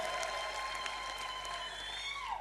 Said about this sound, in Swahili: Pigeni makofi jameni.